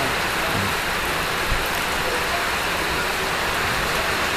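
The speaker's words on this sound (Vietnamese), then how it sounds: "Trời bây giờ đang mưa luôn ha mọi người." Rain falling steadily as a continuous close hiss, even and unbroken, with a faint low rumble of passing traffic underneath.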